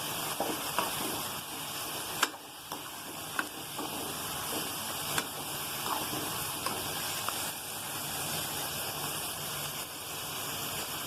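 Beef mince (keema) frying in a pan with browned onions, a steady broadband sizzle and hiss running unbroken throughout, with a few sharp clicks of utensils against the pan.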